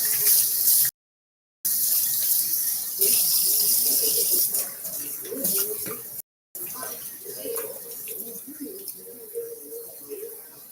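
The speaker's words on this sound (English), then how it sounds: "I need to wash my hands" Running tap water in a home kitchen sink while hands are washed, a steady splashing stream interrupted by brief gaps and shifting as the hands move under it.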